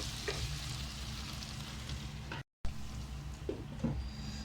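A chicken roast cooks quietly in a pan, with a soft low sizzle and a few brief scraping stirs near the start and end, broken by a short moment of silence midway.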